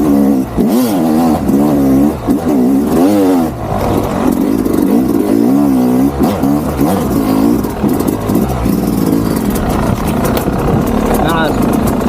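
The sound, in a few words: Yamaha YZ250X two-stroke enduro motorcycle riding up rocky hill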